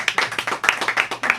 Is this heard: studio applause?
yes